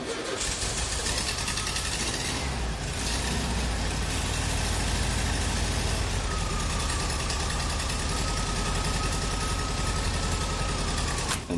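The engine of a neglected 1975 VW Brasilia runs loud and close, fires up and keeps idling with a steady, rough rumble throughout.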